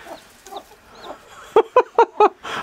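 A newly hatching chick chirps under a hen, four short, bright peeps in quick succession standing out clearly over soft background noise and fainter earlier chirps.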